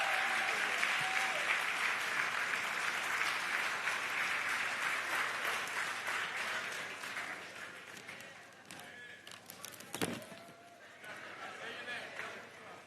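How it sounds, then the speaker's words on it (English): Loud, sustained applause from an evening event audience as a congresswoman's grandson walks onto the stage, dense clapping that gradually thins, with a voice over it near the end. "I want you all to give a big round of applause to her grandson, Congresswoman"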